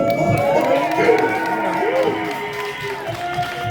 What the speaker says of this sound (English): Everybody give a fucking round of applause for him.